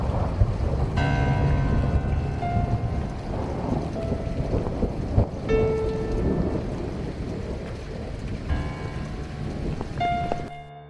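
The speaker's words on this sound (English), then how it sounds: "I think there's a big storm coming." Thunderstorm with heavy rain in a story game, a loud constant rush of rain with deep thunder rumbles and a few sharp cracks, continuing for several seconds with no talk.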